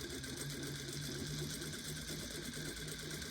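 A sewing machine runs steadily, stitching a tear in denim pants, a continuous mechanical whir with a low hum, quiet and uninterrupted.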